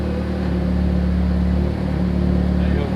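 A Hyundai Genesis Coupe engine idles with a steady, close, even rumble while the clutch is worked and the gears are shifted through.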